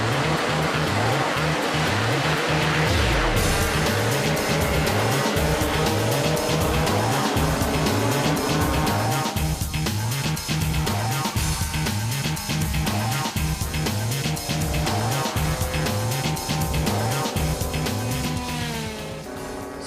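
Scooters starting a race: a loud, steady roar of many small engines revving together, with pulsing, overlapping tones that stay close and continuous for the whole stretch.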